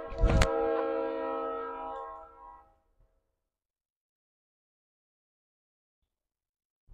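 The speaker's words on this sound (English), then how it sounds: "the train wants to sound its horn" A train's horn blares loud and close for about two and a half seconds, a steady harmonic tone over a low rumble with a sharp click at the start, then cuts off into near silence.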